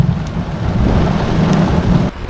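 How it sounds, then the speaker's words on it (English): Heavy rain with thunder pours steadily with a deep low rumble underneath, loud and close throughout before dropping off abruptly at the end. "17 minutes since it started raining."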